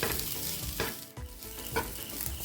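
Boiled boneless chicken pieces, cooked with salt and chilli, tossed into a frying masala for papad samosa filling, loud close sizzling with repeated scraping stirs of a spatula and a brief dip midway, no talk.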